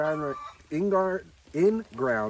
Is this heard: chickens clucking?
yes